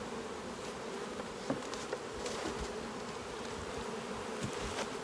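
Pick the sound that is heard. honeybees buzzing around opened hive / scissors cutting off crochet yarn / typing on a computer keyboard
honeybees buzzing around opened hive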